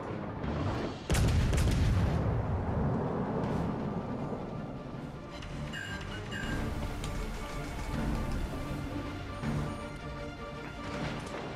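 Warship naval gunfire in World of Warships: Legends, a heavy crashing salvo followed by continuous rumbling cannon fire and impacts over a dense battle din.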